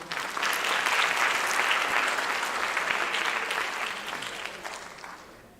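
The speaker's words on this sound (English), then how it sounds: "Can we get a round of applause for that?" A crowd bursts into loud, sustained applause that holds steady and then gradually fades out.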